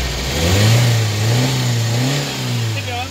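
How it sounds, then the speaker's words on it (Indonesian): A 1990 Toyota Starlet car engine revs up and eases off in a few swelling waves, loud and close, with people talking nearby. "Gasnya ngeng-ngeng itu."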